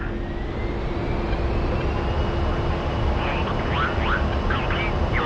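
An A-10A jet in the DCS World flight game spools up for takeoff, a steady, loud engine roar with a high whine layered on top, joined by brief chirping radio-like tones near the end.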